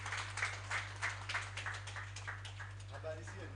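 A congregation at a Wednesday deliverance service claps for Jesus in a fast, even rhythm of crisp hand claps that gradually thins, over a constant low electrical hum, with a faint voice near the end.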